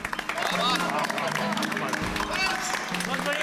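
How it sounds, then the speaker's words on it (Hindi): Several people clap together in a lively, steady patter, with voices talking over the applause throughout. "ताली क्या बजाते हो?"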